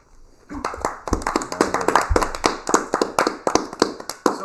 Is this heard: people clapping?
yes